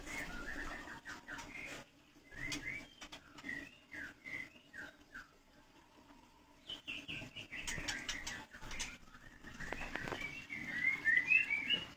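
White-rumped shama songbirds chirp in scattered bursts of sharp whistles, short tweets and trilling phrases, moderately near, over a soft background hum and with some lower cooing calls.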